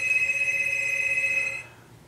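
Another ring from a telephone: one sustained electronic tone lasting about a second and a half before it stops, leaving a quiet room.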